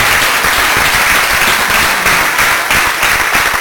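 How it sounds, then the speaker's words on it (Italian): An audience at an Italian public talk on Venetian independence gives dense, sustained applause. The clapping is loud and even throughout, with no speech over it. "vi chiedo di fargli un applauso"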